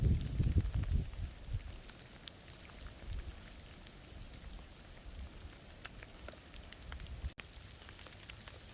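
Rain falls steadily on the Appalachian Trail on a wet hiking day, a soft continuous patter with scattered drops and low rustling gusts up close at the start.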